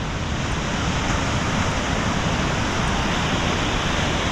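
Ocean waves roll onto a sandy beach in Da Nang, Vietnam, as a loud, continuous roar of surf and wind with no break, heard up close and alone.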